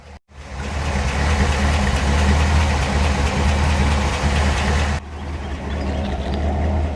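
A 1955 Ford Thunderbird Roadster's V8 idles close by with a steady, throbbing exhaust rumble, loud and continuous, dipping slightly once before settling back into an even idle.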